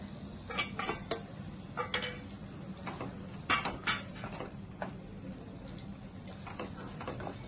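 Green peas tipped into a pan of roasted masala for matar paneer: a close series of irregular light pattering clatters and taps against the metal pan, some sharper than others, over a low background hum.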